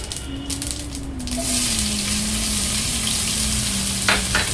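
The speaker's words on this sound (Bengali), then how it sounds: "হাঁড়িতে পরিমাণ মতো তেল দিয়ে একটু আস্ত জিরা ফোড়ন দিয়ে দিব এরপর দিব পেঁয়াজ কুচি" Chopped onions with whole cumin seeds frying in hot oil in a cooking pot, a loud steady sizzle that swells as the onions go in, with a faint tone running underneath and a couple of scrapes near the end.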